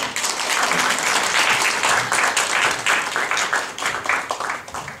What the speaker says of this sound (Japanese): どうぞ拍手を。